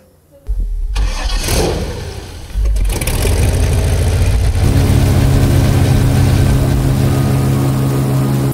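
A 502-horsepower Chevrolet engine on an airboat cranks after a brief quiet moment, catches, and settles into a loud, steady idle with a deep rumble and mechanical rattle.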